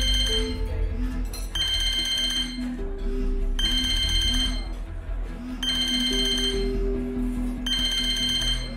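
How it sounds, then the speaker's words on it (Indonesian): A phone rings in repeated bursts of trilling electronic tone, about four rings spaced a second or so apart, loud and close over a low background hum. "Saya harus menerima telepon ini."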